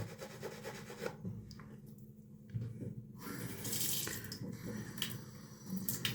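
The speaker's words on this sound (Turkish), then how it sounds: "Şöyle biraz su eklemesi yapıyorum." Water runs from a tap into a shaving soap lather bowl during a straight-razor shave with sheep's milk soap, with close rubbing and swishing sounds, steady and fairly soft, with no talking.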